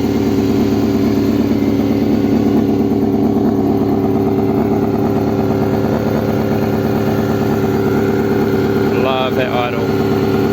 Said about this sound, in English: Love that idle.